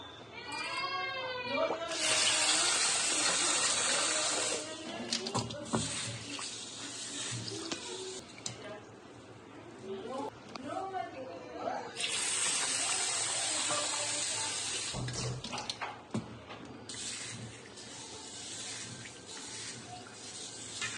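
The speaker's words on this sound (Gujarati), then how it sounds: "એને 2 પાણીમાં આપણે ધોઈ લઈશું" Tap water runs in two long bursts and a shorter one while 300 grams of mung beans are rinsed in a kitchen, and someone talks between and over the splashing.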